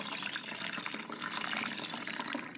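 Water poured by hand over coffee grounds in a Bodum pour-over filter, a steady close splashing trickle that runs without a break and with no talking.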